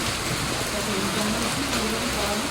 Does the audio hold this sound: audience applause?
no